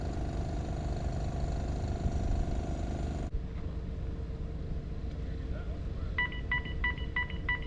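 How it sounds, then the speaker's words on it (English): Repeated electronic warning beeps in short paired bursts ring out before a bridge opens, over a steady engine rumble, starting partway through and continuing rhythmically. "This loud beeping starts, which hopefully means something's going to happen soon."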